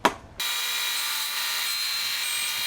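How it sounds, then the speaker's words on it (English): A handsaw cuts wood for a rabbit hutch, making a steady, continuous rasp that starts abruptly after a brief quiet opening and holds an even level to the end, close and alone. "Finish that with a handsaw."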